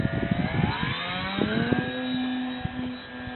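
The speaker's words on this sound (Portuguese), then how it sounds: "Olha lá o avião do tio, o avião." A small engine buzzes steadily, its pitch sliding as an Extra 300 model airplane passes, with a few thumps and knocks mixed in at the start.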